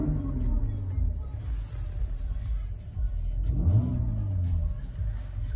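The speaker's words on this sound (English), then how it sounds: "Sound of the exhaust." Exhaust of a 2020 Mercedes-Benz GLC 43 AMG, a deep engine rumble that rises and falls with a rev partway through, loud and close, with no talk over it.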